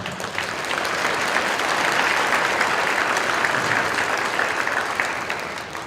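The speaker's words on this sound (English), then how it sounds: "Let's give them a round of applause." An audience at a high school prom walk-through gives a sustained round of applause, a dense wash of clapping that swells in and holds steady, fading slightly at the end.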